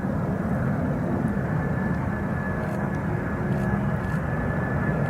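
FedEx Boeing 767 freighter jet arriving at Cleveland Hopkins airport, a steady loud engine roar and rumble holding constant throughout, with no talk.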